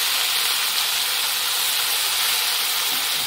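Small chuno fish dropped into hot oil in a home kitchen, giving a loud, steady, bright sizzle and hiss that runs unbroken throughout.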